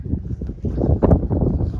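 Strong wind blowing across open water while fishing for snakehead, rough low-pitched gusty rumble buffeting the microphone, loud and continuous with wavering surges.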